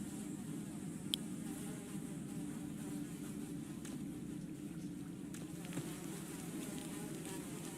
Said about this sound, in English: Despite the buzzing flies, you hear the faintest sound of rushing water that seems to be coming from the farthest hole.